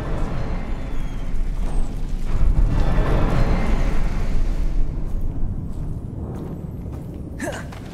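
A Confringo fire spell blasts in Hogwarts Legacy, a loud, sustained rumbling explosion that swells over several seconds and then tapers into quieter background with a brief whooshing sweep near the end.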